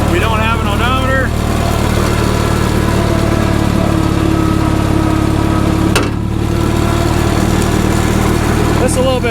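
The engine of a Minneapolis-Moline prototype crawler tractor runs loud and close with a steady low throb, a brief whine early on and a clank around the middle.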